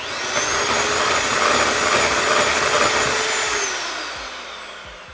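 A hand mixer whirs loudly and steadily up close while beating vegan cheesecake filling, then winds down toward the end with a few soft knocks.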